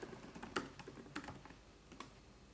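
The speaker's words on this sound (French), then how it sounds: "si je tape quelle est mon adresse IP" Soft, quiet keystrokes on a computer keyboard, a few irregular clicks spread over a couple of seconds with near-silent gaps between them.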